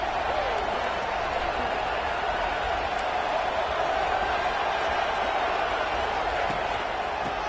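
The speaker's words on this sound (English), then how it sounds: "the crowd really making some noise now, trying to help out this defense to get this stop near the goal line" A packed stadium crowd roars in a college football video game as the home defense tries for a goal-line stop in a Florida Gators versus Colorado matchup, a loud steady wall of cheering throughout.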